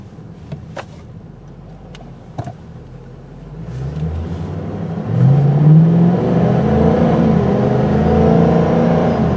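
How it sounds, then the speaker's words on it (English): A 2007 Ford Mustang GT convertible's V8 engine idles, then revs and accelerates with a rising, deep rumbling roar that holds steady and loud near the end. "Oh, I love that sound. That's your V8 running right there."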